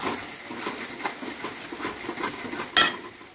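A spoon scrapes and stirs spices sizzling in a pan for a Bengali dahi katla fish curry, with soft rhythmic scraping and one sharp metallic clink near the end.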